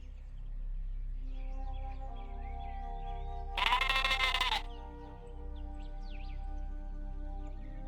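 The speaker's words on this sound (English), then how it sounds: "Am I hearing sheep noises?" A sheep bleats once, a loud, close, quavering cry lasting about a second, over a steady low hum with faint chirping in the background; no talk is heard.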